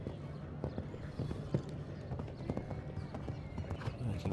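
A horse's hooves clip-clop steadily through a show jumping round, the rhythmic beats fairly faint beneath a wide arena ambience.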